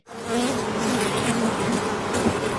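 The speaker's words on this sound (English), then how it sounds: "We want to have as many bees as we can to make honey." Honeybees at Secret Garden Bees, a honey farm in Linden, North Carolina, produce a dense, steady buzz that starts abruptly and holds close and loud throughout.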